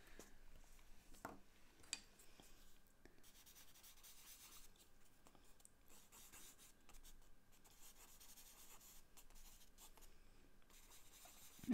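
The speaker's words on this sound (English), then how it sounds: "you can always add a little bit more charcoal, and then again use the rubber just to push and pull it back" Charcoal being rubbed and pushed across paper with a rubber blending tool, a faint, steady scratchy rubbing with a few sharper strokes, close and quiet with no talking.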